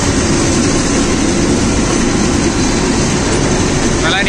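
A tractor drives a Tusker rotavator through a banana field, its engine and churning blades giving a loud, steady broadband roar that stays constant from start to end.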